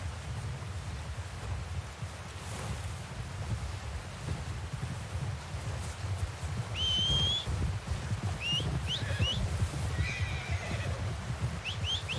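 A horse whinnies a few times in Red Dead Redemption 2 over a steady low rumble of ambient noise, with high thin neighing calls rising out of the background.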